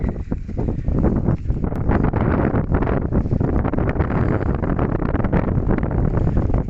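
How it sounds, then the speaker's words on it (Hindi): Strong wind blowing hard across an open hillside village before a storm, a loud continuous roar buffeting the microphone with steady gusts and no voices. "बहुत ही तेज हवाएं चल रही हैं"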